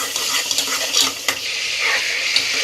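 Ginger garlic paste sizzles and fries in a hot pan, with a spoon stirring and scraping against the metal in irregular strokes, close up.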